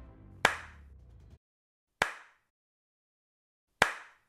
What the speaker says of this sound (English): we hear someone clapping in the distance